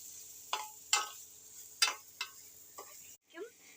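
A spoon stirs sautéed tomatoes in a pan, giving a handful of sharp scraping and clinking strokes at irregular intervals over a faint background.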